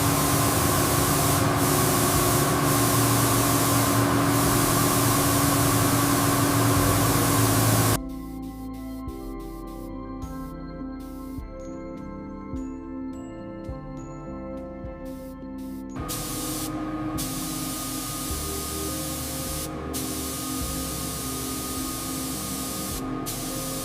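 Spray gun applying clear coat to a yacht hull during a superyacht rebuild: a loud, steady broadband hiss for about eight seconds, then quieter mechanical tones and sparse clicks, followed by another sustained hissing stretch.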